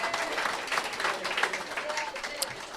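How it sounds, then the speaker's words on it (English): Applause from a podcast audience, many hands clapping in a steady dense wash with a brief voice or two mixed in, moderately loud throughout. "I love the sound of that many claps."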